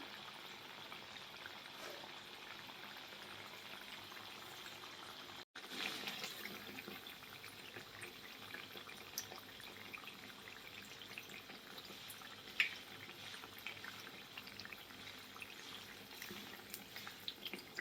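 Dahitri, a traditional sweet, deep frying in oil over a medium gas flame makes a soft, steady bubbling hiss that runs the whole time, with one brief dropout and a few small pops.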